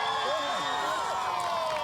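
A crowd at a field hockey shootout cheers and whoops steadily, a loud continuous din of voices with some clapping.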